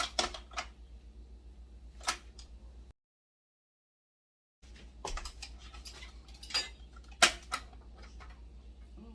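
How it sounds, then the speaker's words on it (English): A knife chops pupusa filling on a board in a home kitchen, sparse crisp taps in uneven bursts at close range, with a short stretch of dead silence partway through. "this was too chunky, so we will chop a little bit more"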